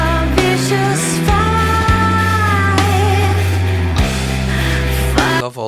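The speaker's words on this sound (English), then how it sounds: "you can hear all those cymbals just ringing out in the background." Open cymbals ringing out in the background of a metal song, sustained shimmer under heavy distorted guitars, bass and drums, loud and dense throughout.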